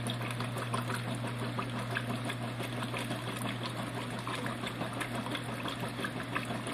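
A Sears Roebuck washing machine runs a regular cycle loaded with fifteen shirts, giving a steady low motor hum with churning, sloshing water throughout, continuous and moderately quiet.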